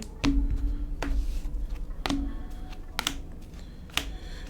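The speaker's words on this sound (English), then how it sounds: "Get the deck a good shuffle." A deck of Yu-Gi-Oh trading cards is shuffled by hand, giving a series of sharp, close card taps and snaps at roughly one-second intervals over faint background hum, with no voices.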